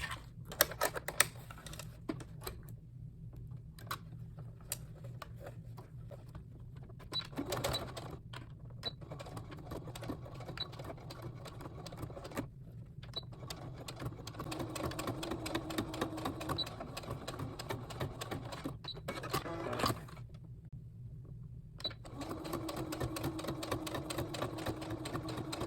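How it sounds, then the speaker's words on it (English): A sewing machine stitches a three-layer washable fabric face mask in a steady mechanical whir that runs in several bursts with brief pauses, close and moderately loud, with no talking. "now we're going to sew it"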